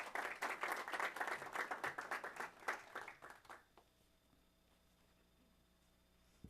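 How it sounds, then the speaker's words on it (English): An audience at a city ceremony applauds warmly for about three and a half seconds, a dense burst of clapping that fades into a quiet room. "Let's give her a warm round of applause as she comes."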